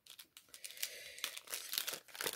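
Scissors cut open crinkly plastic packaging on an occult-themed subscription box, with close, quiet crumpling and crackling bursts in an irregular rhythm and no talk.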